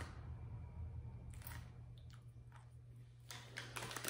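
Quiet, close crunching of a Beech-Nut snack being chewed, several brittle bursts of crackling bites separated by short pauses over a low hum.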